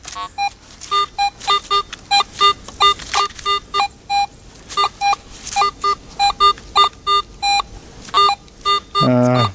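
An AT Pro metal detector emits rapid, repeated electronic beeps in short bursts on a hillside winter hunt, ending in a longer sustained tone, loud and close.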